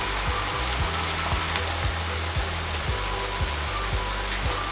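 Prawns sizzle steadily in a pan over a medium flame while cooking for a prawn onion roast, a close, continuous crackling fry with faint low knocks recurring throughout.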